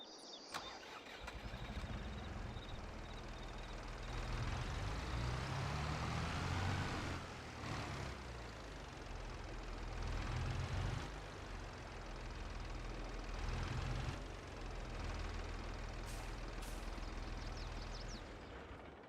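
Tractor engine in the video game Farming Simulator 22 runs at a steady rumbling drone, its pitch swelling and easing as the vehicle moves, with no voices over it.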